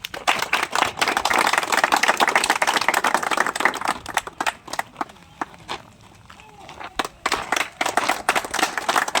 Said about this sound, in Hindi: तो तालियां दोस्तों